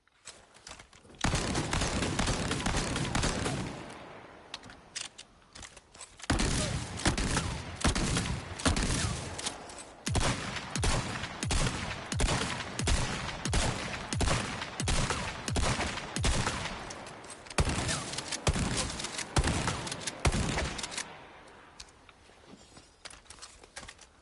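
A Striker fully automatic shotgun fires in the Resident Evil 4 Remake game, loud close blasts in fast rapid bursts with short gaps between volleys and brief pauses, likely reloads, no talk.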